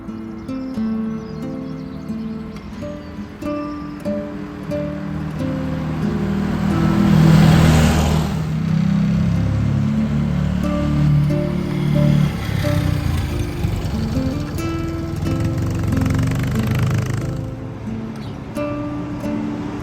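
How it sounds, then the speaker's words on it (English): A Fiat 500 L city car moving outdoors, its engine rising to a steady, moderately loud drone that holds near for several seconds before easing off, with no talking over it. "I'll try and get a couple of shots of the car moving at some point in a minute."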